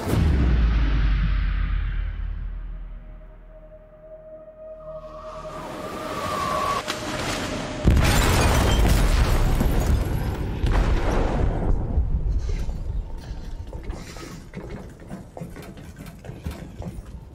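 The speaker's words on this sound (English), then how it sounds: "They detonated an explosive in the hold." An explosive detonated in a ship's hold in the video game Detroit: Become Human: a low rumbling build, then a sudden massive blast that roars and crackles for several seconds before fading into debris and a low rumble.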